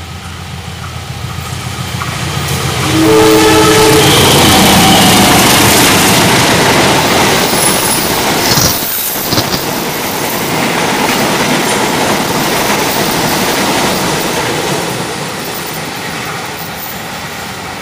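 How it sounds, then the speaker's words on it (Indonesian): Fajar Utama Solo passenger train from Pasar Senen to Solo Balapan speeds through Maguwo Lama station, a loud rushing roar with clattering wheels and engine rumble that builds and stays close, briefly tooting early on. "kereta api Fajar Utama Solo dari stasiun Pasar Senen tujuan akhir stasiun Solo Balapan"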